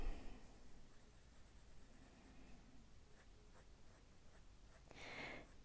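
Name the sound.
Prismacolor coloured pencil on paper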